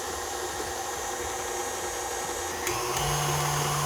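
An electric mixer beats melted butter, sugar and vanilla in a bowl with a steady whirring motor hum, which shifts to a higher, harder tone partway through, with no talk.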